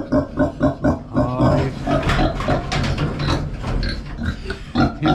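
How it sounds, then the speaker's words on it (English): Several pigs grunt and snort close by, a rough overlapping chorus of rhythmic oinks that starts in pulses and then blurs into continuous noise. "I got the pigs. They're back in here."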